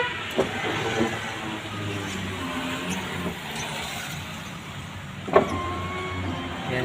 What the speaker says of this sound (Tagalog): So titesting na natin yung power window.